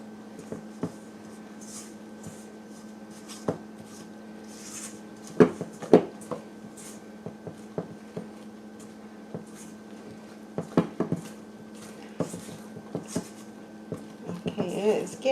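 A spoon stirs flour mixture into thick coffee cake batter in a bowl, giving soft scraping and rubbing strokes with scattered sharper knocks against the bowl, over a faint steady hum.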